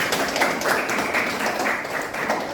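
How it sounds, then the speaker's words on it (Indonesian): Students in an Islamic education classroom clap together after a correct answer, a moderate, continuous patter of many hands at fairly even loudness throughout. "kita beri aplaus tepuk tangan"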